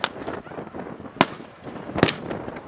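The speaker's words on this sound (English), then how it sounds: "Oh, another explosion." Sharp explosions go off amid crackling background noise in wartime Chechnya, three distinct bangs at irregular intervals, with faint rumble and pops between them.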